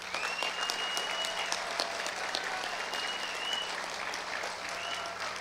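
A crowd at a 2021 high school graduation ceremony applauds honor graduates, with sustained, even clapping that stays moderately loud throughout, plus occasional sharper individual claps and a faint whistle-like tone over the din.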